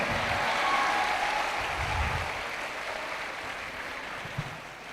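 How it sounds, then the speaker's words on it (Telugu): An audience claps loudly and steadily in a hall, a dense wash of applause that fades slightly toward the end. "అందుకే మిమ్మల్ని గట్టిగా చప్పట్లు కొట్టమన్నాను"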